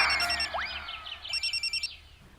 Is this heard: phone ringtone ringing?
yes